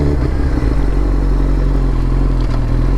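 Suzuki GSX-R 1000 motorcycle fitted with an M4 MC-36 full exhaust, its engine running with a loud, deep, steady rumble close by, without speech.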